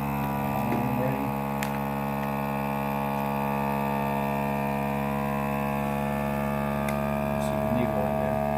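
A vacuum sealer accessory pumps air out of a mylar food-storage bag with a steady, loud motor drone and hum that holds constant throughout, with brief faint voice near the start.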